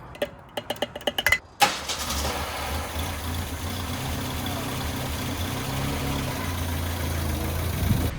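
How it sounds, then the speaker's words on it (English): Ford Pinto engine fueled with Everclear: a few sharp clicks and cranking bursts, then the engine catches and settles into a steady, moderately loud idle rumble that runs on without a break. "So hopefully this engine doesn't stop until we're completely out of Everclear."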